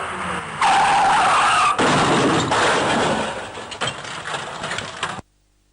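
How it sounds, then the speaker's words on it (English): A car skids and crashes into a tree: a loud sustained tire screech with engine roar, an abrupt impact-like break, then rough scraping and clattering debris before sudden silence. "a car crashed into a tree."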